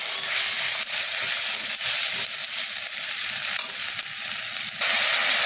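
Spice paste with chilli powder and slit green chillies sizzles steadily in oil in a pan, with a continuous close frying hiss and soft scraping stirs recurring throughout, no voices.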